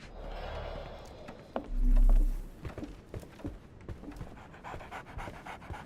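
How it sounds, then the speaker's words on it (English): A dog pants in a Sherlock detective video game, quick rhythmic breaths coming close and clear, with one louder thumping swell partway through and no voices. "So, Barnes has a dog now."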